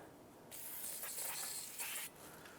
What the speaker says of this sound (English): spray it down with some solvent,